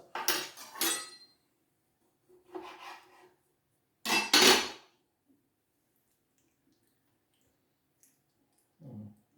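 A small spoon scraping and scooping the flesh out of good-quality lemons, heard as three short bursts of rasping, utensil-on-fruit sounds close by, then near silence with a faint soft knock at the end.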